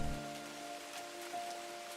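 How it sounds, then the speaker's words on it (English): Rain falls in Minecraft as a soft, steady hiss of drops with faint scattered patters, carried over a low held musical tone, all fairly quiet and even throughout. "it's starting to rain"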